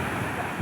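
Big ocean waves roll in at Kothapatnam Beach near Ongole, a steady broad roar of surf mixed with wind buffeting, with no voices.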